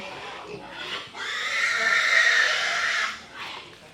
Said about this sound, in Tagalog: Oo, nandun yung mga baboy.